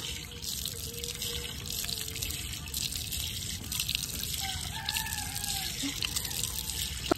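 Tap water runs in a steady, fairly soft stream outdoors, with faint trickling and dripping and a bit of distant background noise.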